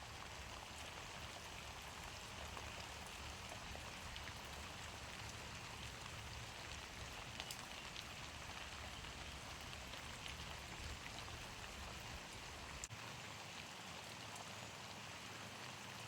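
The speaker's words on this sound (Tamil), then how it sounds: "மழையை பாருங்க, மழை இனி மாரி காலம் மழை தான்." Steady rainfall during the monsoon season, a continuous soft hiss of drops on surfaces with no voices, even and fairly quiet throughout.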